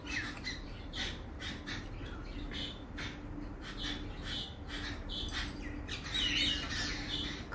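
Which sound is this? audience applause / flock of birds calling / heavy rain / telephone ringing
flock of birds calling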